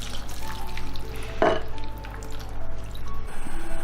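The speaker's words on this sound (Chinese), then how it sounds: "再装上1碗清水淋上来。" A bowl of clean water poured over a Hakka dish cooking in a pot, heard as a single short splash close by over a steady low background hum.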